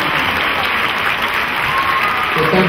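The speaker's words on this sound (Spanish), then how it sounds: "Pido un fuerte aplauso" An audience at a school end-of-year event applauds, a loud, even burst of many hands clapping that holds steady for a few seconds.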